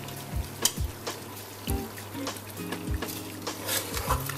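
Beef boti masala fries in a pan, a constant sizzle broken by repeated scraping and stirring strokes and light clinks of a utensil against the pan, close and moderately loud.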